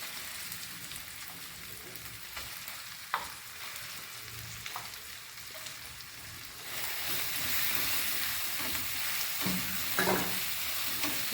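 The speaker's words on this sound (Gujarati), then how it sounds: "ધીમા તાપે થોડીવાર એને શેકીશું." Crushed green peas fry in hot oil with cumin over low heat, a steady sizzle that grows louder and denser partway through, with occasional scrape and clack of a spoon stirring the pan.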